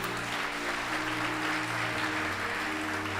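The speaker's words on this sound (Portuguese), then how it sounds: "aplauda o Senhor" Church congregation applauds during a sermon, a continuous wash of clapping with a low sustained hum of music or voices beneath it.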